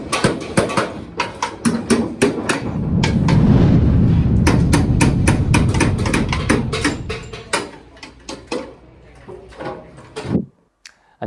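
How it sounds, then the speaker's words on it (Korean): Workers hammer aluminium formwork at an apartment construction site: loud, close, irregular metallic strikes come in quick bursts over a swelling rumble of site noise, then taper to scattered single blows. "거친 망치 소리 속에 분주하게 움직이는 노동자들."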